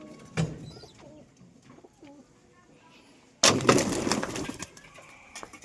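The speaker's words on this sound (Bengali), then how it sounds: "পায়রা জোড়া আলাদা করার জন্য রেখে দিয়েছি যেমন আমাদের এই জিরিয়াটা" Pigeons coo softly in a loft with a few faint calls, then a sudden loud burst of fluttering wings and scuffling close by.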